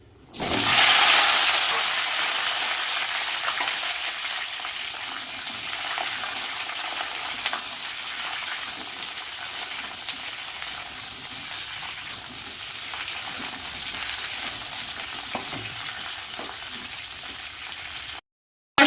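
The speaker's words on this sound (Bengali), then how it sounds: "আমি কিন্তু ফুলকপি আর আলু একসাথেই ভেজে নেবো" Cauliflower florets and potato pieces frying together in hot oil with whole cumin, bay leaf, cardamom, cinnamon and a dried chili, a steady loud sizzle that holds evenly from start to finish without talk.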